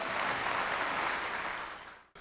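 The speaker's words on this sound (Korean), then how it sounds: "우리 한학자 총재님의 큰 박수를 부탁드리겠습니다." Audience applause at a peace forum, a dense steady clapping that fills the whole short moment and then cuts off abruptly at the end, no voices over it.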